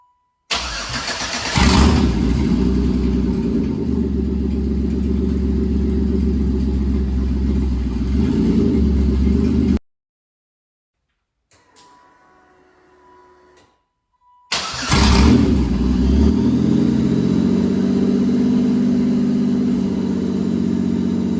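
A Pontiac Fiero with a swapped 3800 engine cranks and fires into a loud, close, steady run, cuts out to near silence with faint faraway sounds, then starts again and keeps running strongly.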